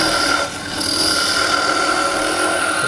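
A thin finial turned on a wood lathe with a skew chisel gives a continuous close shaving hiss over a steady motor whine, briefly dipping then resuming.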